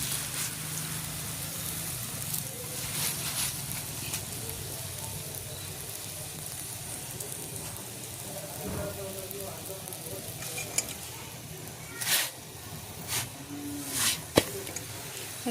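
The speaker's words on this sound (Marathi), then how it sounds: "आता ही पोळी टाकलेली भाजायला." A poli flatbread roasts on a hot pan with a soft, continuous sizzle and faint crackle, while a few sharp taps and scrapes near the end suggest it being pressed or turned.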